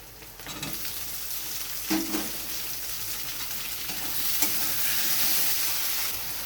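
Chopped tomato goes into a pan of grated ginger already frying, giving a loud continuous sizzle close by, with stirring clatters near the start and the hiss swelling toward the end, with no talking.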